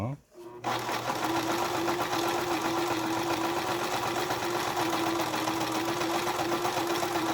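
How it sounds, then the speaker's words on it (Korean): An old household sewing machine with a weakened motor runs an overlock stitch, giving a steady, loud mechanical whir with a constant hum that continues alone for about seven seconds after a short start. "제가 페달을 밟아 보니까 9번에 이제 옷감이 풀리지 않도록 해주는 오버록 스티치죠"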